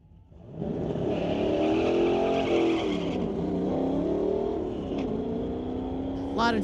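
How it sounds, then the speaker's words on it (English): A drag racing car launches off the line in a street-legal class at a drag strip, its engine roaring loud and steady with tire wheel spin that settles into a sustained pull for several seconds. "lot of wheel spin off the line, but he ended up getting some traction, moving toward the center line"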